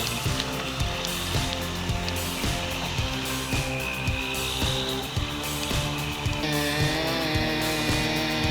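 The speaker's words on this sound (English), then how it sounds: "with his skilled technique in the Steel 661 chainsaw, he successfully conquered a mature pine tree" A Stihl 661 chainsaw cuts through a mature pine tree, its engine snarling loud and close in a continuous rhythmic rasp, with repeated pulses as the chain bites into the wood.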